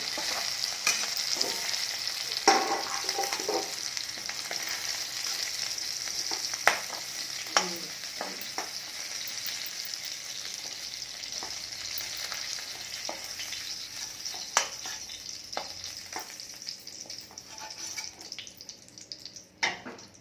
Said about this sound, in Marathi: थोडं सोनेरी कलर येईपर्यंत आपल्याला तळून घ्यायचं आहे